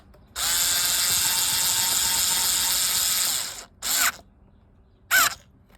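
A power driver runs a screw into a fishing reel during a drag washer upgrade, one long whirring burst followed by two short bursts, close and loud with no talk.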